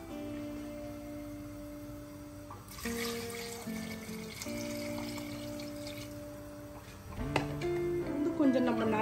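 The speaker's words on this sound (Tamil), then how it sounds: "இதுக்கு தேவையான அளவு தண்ணி போட்டுக்கலாம்." Water pours into a cooking pot for mutton haleem, a splashing rush that starts midway and grows louder toward the end, with background music running underneath.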